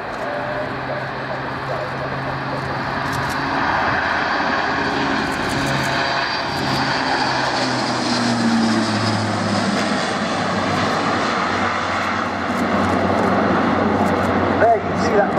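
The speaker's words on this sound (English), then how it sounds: "So, rolling now, the Airbus A400M," An Airbus A400M Atlas military transport rolls for takeoff at the RIAT 2015 airshow, its propeller turboprop engines making a steady, loud, rising roar that fills the scene, with a voice speaking over it.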